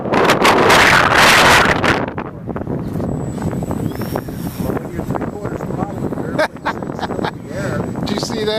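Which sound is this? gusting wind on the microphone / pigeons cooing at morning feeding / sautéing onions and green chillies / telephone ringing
gusting wind on the microphone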